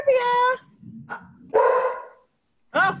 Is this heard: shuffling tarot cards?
no